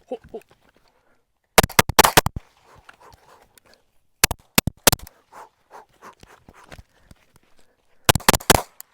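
Rapid gunfire on a flat outdoor shooting range, with magazines dumped as fast as possible. Three dense clusters of sharp, loud shots are separated by quieter gaps with softer handling noises.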